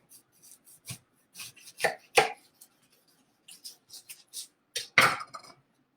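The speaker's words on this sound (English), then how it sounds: "So we're gonna cut the end part so we make it flat." A knife cuts the end off an item on a board, giving a series of sharp, uneven chopping and scraping strokes, close and isolated with quiet gaps between them.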